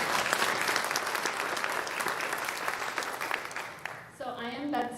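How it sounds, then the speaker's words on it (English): Audience applause after the national anthem at the 28th Annual Great American Think-off, a dense, steady burst of clapping from a crowd that fills most of the clip before a voice begins speaking near the end. "Let's clap for that."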